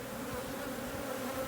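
Bees swarm around a newly installed nuc hive, a dense, steady buzzing drone close by and unbroken.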